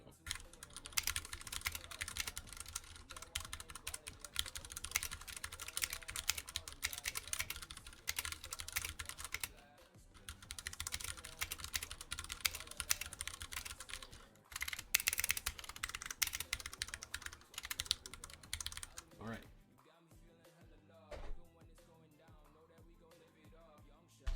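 Fast, rhythmic clacking of keys on a Drop CTRL TKL mechanical keyboard, typed close to the microphone in bursts with brief pauses and a few sharper taps toward the end.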